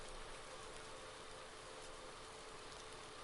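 Rain pours down in Farming Simulator 19 with the tractor switched off, a dense, even hiss of falling water that fills the whole short stretch without a break.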